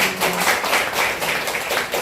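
At a detox and healing camp gathering, an audience gives Park Hyang-seon a dense, continuous round of applause, with many hands clapping loudly and evenly throughout.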